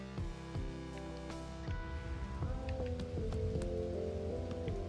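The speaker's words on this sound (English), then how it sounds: "it's raining." Rain patters steadily on a surface in the video game Bugsnax, with layered tonal music playing over it at a fairly even level.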